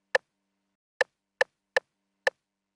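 A short, dry percussive sample for a beat, randomly panned between left and right, sounds as five sharp knock-like clicks at uneven intervals against total silence.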